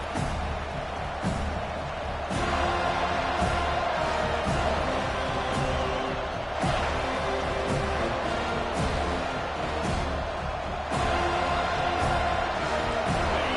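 A home crowd at a college football game, tied to the Oklahoma Sooners, roars steadily in the stadium, a loud, dense, unbroken wall of cheering that runs the whole stretch without letup.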